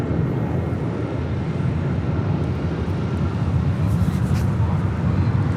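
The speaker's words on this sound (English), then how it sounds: "That was American Airlines Flight 1639 heading to Dallas, Fort Worth, Texas in an A321." An American Airlines Airbus A321 departing LAX for Dallas-Fort Worth gives off a continuous, dense jet rumble that swells slightly near the end, heard alone without talk.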